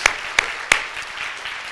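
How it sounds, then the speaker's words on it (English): Three sharp, separate hand claps sound close and fairly loud in a church service, opening a round of applause that stays thin and scattered before fading into quiet room noise. "let's give him a round of applause"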